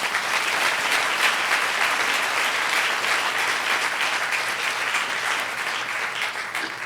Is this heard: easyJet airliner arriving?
no